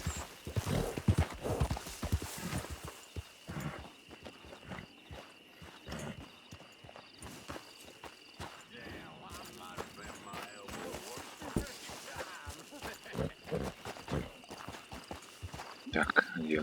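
A horse's hooves clip-clop at a walking pace in the Western game Red Dead Redemption 2 Online, a steady rhythm of close hoof strikes with a whinny, while someone talks over it.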